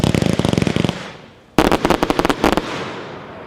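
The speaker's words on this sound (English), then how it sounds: "Number 12, finale box fan, red peony with white glitter, packed 4" A finale box fan firework firing red peony shells with white glitter, a rapid run of loud sharp launch thumps, a brief lull with fading crackle, then another dense burst of bangs.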